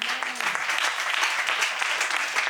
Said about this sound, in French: On acclame le Seigneur pour elle.